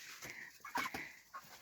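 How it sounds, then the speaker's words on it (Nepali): Broiler chickens on a farm give a few faint, short clucks and squawks, close by, in a quiet setting. "वाउ कुखुरा हेर्नु त गाइजहरू, ब्रोइलर कुखुरा"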